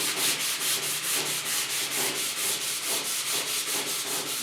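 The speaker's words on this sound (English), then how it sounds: "Always a little bit of hand sanding where it's tough to get to." Hand sanding on car doors with patina paint, a close, steady scratchy rubbing in quick back-and-forth strokes, repeated evenly about four times a second with no talk.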